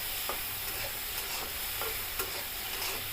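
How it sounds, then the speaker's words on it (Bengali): Ridge gourd and potato with turmeric are stirred around a pan, giving soft scraping strokes every half second or so over a steady low sizzle, close and fairly quiet with no voices. "এবার হলুদটা দিয়ে দিলাম, ভালো করে মিশিয়ে নিব।"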